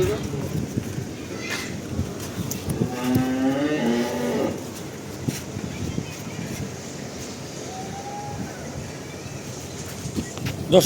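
A heifer calf from a Dinajpur cattle market lows once in the middle, a moo with stacked tones under the bustle of people talking and handling livestock nearby.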